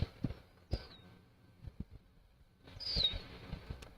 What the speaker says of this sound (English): Can you guys hear the birds outside?